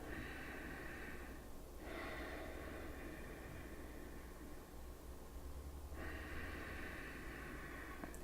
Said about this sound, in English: Begin to take nice deep inhalations through the nose.